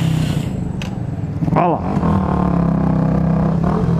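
A Yamaha Factor 150 ED motorcycle with non-ABS brakes skids when both brakes are applied. A short tire chirp cuts through the steady engine drone, and a voice speaks briefly nearby.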